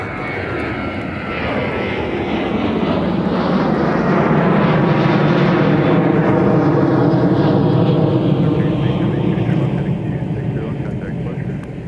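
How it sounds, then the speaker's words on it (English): Sun Country airliner taking off from runway 30 right at MSP airport: a loud jet roar swells and sweeps past over about twelve seconds, steady and close, then begins to fade. "Sun Country Tide Pod departure off to Columbus."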